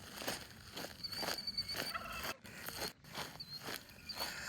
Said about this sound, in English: there's a turkey that I mistook for a rooster from afar. Just gobbled at me.